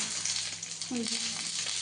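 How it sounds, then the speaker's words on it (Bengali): Paturi, fish wrapped in leaves, fries in a pan, making a soft continuous sizzle with a brief utensil tone in the middle of a short stretch, fairly quiet and without talk. "পাতুরিটা এখন ভাজা চলছে।"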